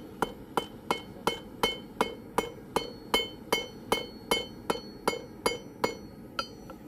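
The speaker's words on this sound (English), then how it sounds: "now forging out the back of it" Hammer blows on hot steel as the back of a blade is forged flat, a steady run of about fifteen sharp, ringing strikes spaced roughly half a second apart, close and loud.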